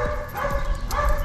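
A K9 training dog gives short barks and whimpering yips during obedience sit practice, fairly close and steady over a low background hum.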